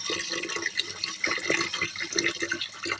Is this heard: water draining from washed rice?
yes